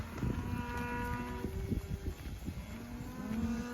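Cattle on a drive to recovered pastures during extreme drought, several cows mooing in drawn-out calls over a steady rumbling background, one low moo fairly close near the end.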